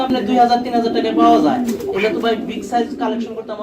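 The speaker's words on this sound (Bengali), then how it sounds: "এটা হচ্ছে নর কবুতর এটা হচ্ছে মাদি কবুতর" Male and female Lahori and Sirazi pigeons on a farm coo in soft, throaty rolls close by, while a person talks over them.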